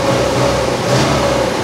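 A car engine runs smoothly with an even, steady mid-pitched hum, close and fairly loud, with no voices.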